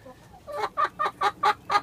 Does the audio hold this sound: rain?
no